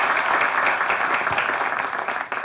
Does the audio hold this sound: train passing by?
no